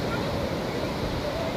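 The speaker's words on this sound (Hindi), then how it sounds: "पानी का जो लहर है आप देख सकते हो बहुत मस्त लहर है" Sea waves wash continuously onto a beach in Kerala at sunset, a dense, steady surf roar with some wind noise and no clear breaks.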